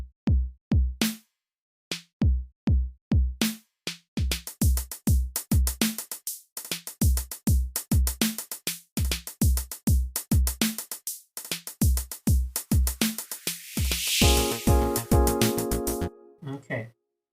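Programmed electronic drum pattern with punchy kicks and snares, hi-hats shifted to start a little early; rhythmic bars with short gaps, ending in a brief dense noisy fill before stopping.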